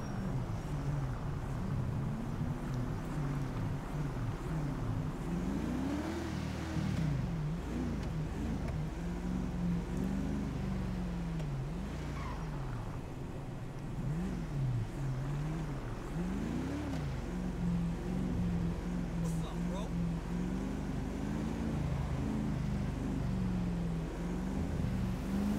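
Car driving and accelerating in GTA V on an ESX roleplay server, a continuous loud engine drone whose pitch rises and falls with repeated revving and gear changes throughout.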